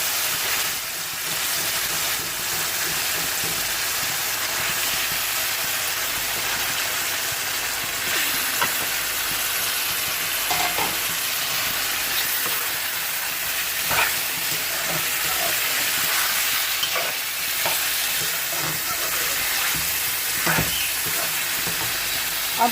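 Chicken fries with tomatoes in a karahi for Peshawari charsi karahi, a loud, continuous sizzle with hissing steam and intermittent stirring scrapes, close-up and without speech.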